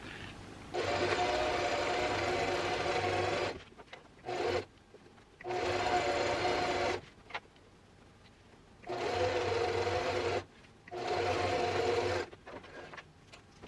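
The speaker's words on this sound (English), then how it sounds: "I'll just sew it at a 1 centimeter seam allowance straight down this line here." A sewing machine runs a straight seam through thrifted dress fabric, its steady motor whir coming in three long bursts with short pauses and brief restarts between them, close and loud with no talking.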